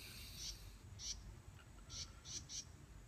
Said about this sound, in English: you can hear birds chirping in the background.